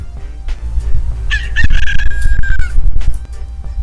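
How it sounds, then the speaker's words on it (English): A rooster crows once, loud and close, its drawn-out call rising and holding for about a second over a low background rumble. "Okay, so this is the sound of rooster,"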